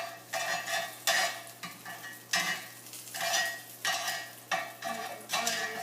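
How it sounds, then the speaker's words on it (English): Asparagus sizzles in a cast iron skillet. Bursts of frying crackle come in a regular rhythm as the spears are stirred and tossed, close and moderately loud, with no talking. "You can already start to hear it sizzle."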